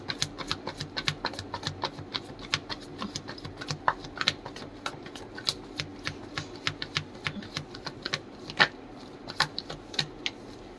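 A deck of tarot cards is shuffled by hand in a steady stream of quick, crisp riffling clicks and flutters, close and continuous throughout.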